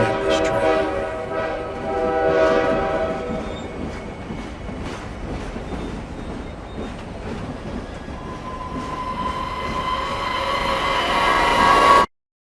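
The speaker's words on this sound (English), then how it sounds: "Tonight you're going to see the Krampus train." A train rumbles past steadily for several seconds, and a sustained horn tone rises toward the end before the sound cuts off abruptly.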